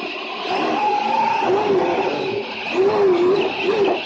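Sebastian Vettel's Formula 1 car snaps sideways and spins at the 2019 Bahrain race, its loud engine note wavering up and down through the slide over a steady roar of wind and tire noise.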